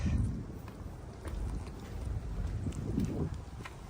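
Gusty wind rumbles outdoors, buffeting the microphone in uneven low surges with no talking.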